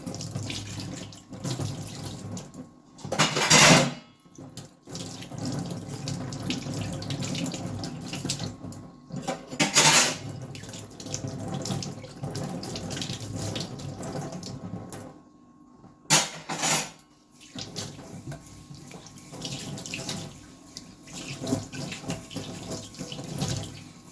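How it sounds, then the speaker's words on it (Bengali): Water running from a tap while a basin is washed at home, steady close splashing with a few louder bursts of gushing flow spread across the stretch, no one speaking. "তারপরে বেসিনটাও ধুয়ে নিলাম"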